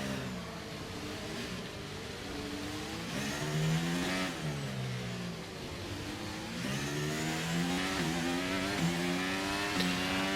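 Race cars in the F1 23 video game at the Miami circuit, engines revving and rising and falling in pitch as cars accelerate and shift, loud and continuous with brief tire squeal.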